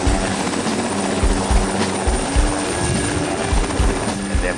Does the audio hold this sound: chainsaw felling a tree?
no